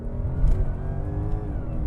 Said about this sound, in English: that supercharged V8 sounds absolutely intoxicating